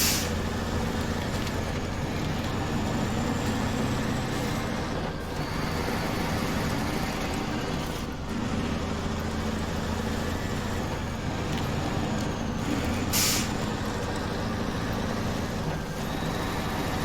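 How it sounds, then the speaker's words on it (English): Truck driving in SnowRunner on Rogers Point, a steady loud engine drone with road rumble holding constant throughout, with brief hiss-like bursts breaking in now and then. "I only have to drive the truck up there."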